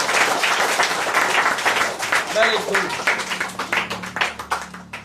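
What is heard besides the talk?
applause for a student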